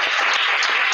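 An audience at an evening open talk applauds, a close, dense burst of many hands clapping that holds steady for about a second.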